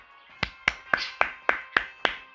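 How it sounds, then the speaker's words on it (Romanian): Seven evenly spaced, sharp, close claps ring out, sparse and clear, like a single person applauding slowly. "Aplauze."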